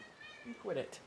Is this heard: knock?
no